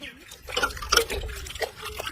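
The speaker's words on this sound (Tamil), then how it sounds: "இது என்ன பண்ணணும்னா தண்ணியில அலசணும்." A white cloth is rinsed and swished in water, making soft splashes and sloshing that sound close and moderately quiet, with a faint voice in the background.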